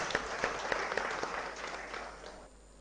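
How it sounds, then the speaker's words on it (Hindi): Loud applause from a crowd of students at a civil services career talk, dense clapping that fades out toward the end. "चलो एक बार जोरदार ताली हम आपके लिए बजाते हैं।"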